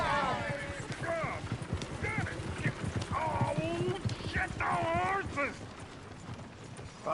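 Horse hooves clip-clop steadily in a PS4 video game, with game characters talking over the hoofbeats throughout.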